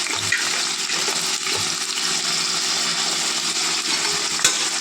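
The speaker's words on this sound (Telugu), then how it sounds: "నూనె కాగిందండి, ఉల్లిపాయలు వేసుకోవాలి." Thinly sliced onions go into hot peanut oil and fry with a steady, loud, dense sizzle and hiss that holds evenly throughout.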